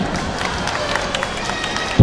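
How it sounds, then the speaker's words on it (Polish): Children at an outdoor Caritas Children's Day event clap and cheer together, a busy, lively crowd noise of patter and shouts held steady for two seconds. "Teraz wszystkie dzieci klaszczą."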